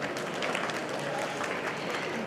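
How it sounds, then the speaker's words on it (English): Steady, dense applause from an audience, a continuous wash of clapping with no pauses or talk over it. "if you give a round of applause"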